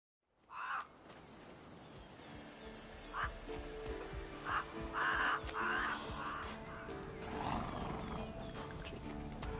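Geralt's horse Roach in The Witcher III, heard in a game scene with crow-like caws and a horse's snorts and neighs over steady ambient background, with a few brighter bursts scattered through.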